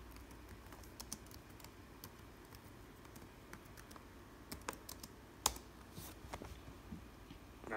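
Keystrokes on a computer keyboard come in short, irregular bursts, faint and close, with a quiet background hum and no talking.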